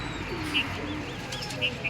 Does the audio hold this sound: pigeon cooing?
yes